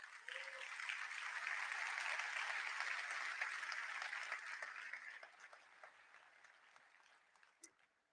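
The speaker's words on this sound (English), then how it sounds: "let's give them a round of applause" A conference keynote audience claps for the event's sponsors, a dense round of applause that holds steady and then gradually thins out, with a brief murmur at the start.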